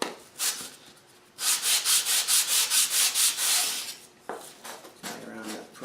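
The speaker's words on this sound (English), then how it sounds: "sanding here. This is 220 grit sandpaper." Rhythmic back-and-forth rasping of 220 grit sandpaper on a wooden segmented bowl, sanded by hand, a steady run of about ten strokes after a few scattered scrapes, close and fairly loud.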